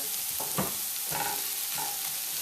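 A pot being stirred with a quick spoon motion before pounded yam goes in, soft scraping strokes over a constant low sizzle, close and fairly quiet with no talking.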